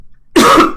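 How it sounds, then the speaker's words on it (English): A person coughs up close during a Case Clicker 2 gaming session: a loud, harsh double burst that breaks a moment of silence, with a short gap before the second cough. "I need to cough like crazy."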